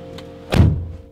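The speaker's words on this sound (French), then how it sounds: "Fermez la porte." A door pushed shut with one solid, close thud.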